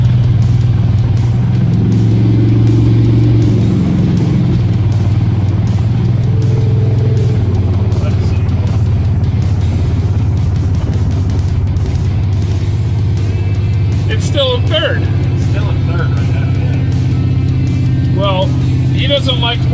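1972 GMC C10 truck with a 700R4 transmission that will not shift into fourth gear, engine droning loudly and rising as the gas is applied, with people talking over the steady motor noise.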